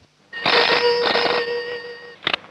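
Telephone bell ringing in a scene from the Hindi film Arth, a sustained electric ring with steady tonal overtones lasting nearly two seconds, followed by a short second burst.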